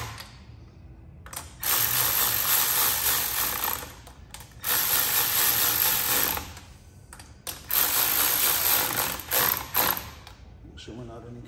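Ratchet work while refitting the plugs on a Honda 400EX 400cc big-bore motor during a rebuild: several bursts of rapid, close ratcheting clicks, each lasting a couple of seconds and separated by short pauses.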